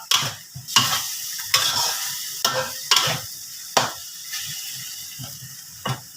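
A sweet-salty sauce for fried pork neck is stir-fried in a pan until the liquid cooks down. It gives loud, close, rhythmic scrapes and splattering sizzles about once a second, with quieter bubbling between strokes.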